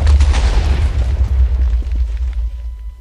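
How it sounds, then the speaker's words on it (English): Minecraft TNT fired from a cannon goes off in a loud, close, rumbling blast that decays over about three seconds. "the TNT is placed, detonate, detonate,"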